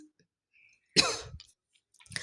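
One sharp, close throat clearing bursts out alone in a quiet room, then trails off. A second shorter rasp starts just at the end.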